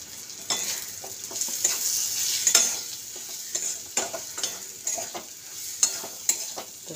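Spices for dal tadka fry in hot oil, sizzling softly under repeated scraping strokes of a spoon stirring the pan, close and steady.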